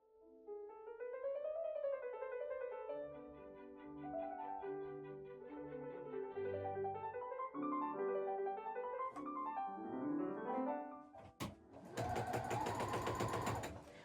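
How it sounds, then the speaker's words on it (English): A sewing machine stitches a pocket bag mend, with music playing throughout and a dense burst of rapid machine stitching near the end. "Let's sew this pocket bag."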